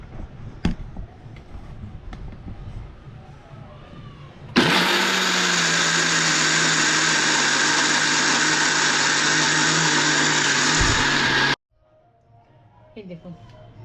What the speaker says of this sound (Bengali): এটা এবার মিক্সিতে আমরা বেটে নেব